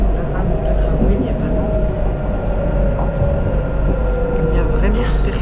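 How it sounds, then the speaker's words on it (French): Inside a Bordeaux tram car running near the end of the line, a steady loud rumble with a sustained whining motor tone and faint rattles, a voice talking over it. "Je suis donc dans le tramway presque arrivé au terminus"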